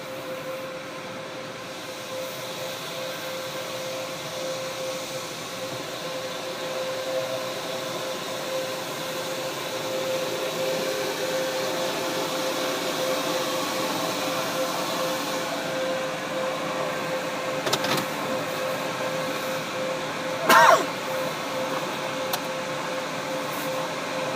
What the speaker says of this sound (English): this is a LaserWash 4000 with Bouncer air blade dryers. He's going ahead with a wash as always.